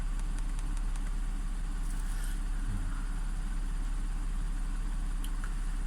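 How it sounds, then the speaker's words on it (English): An Audi engine with a timing fault idles with a misfire, a steady close low-pitched rumble with a faint uneven pulse running through it, alone with no talk. "There's the misfire."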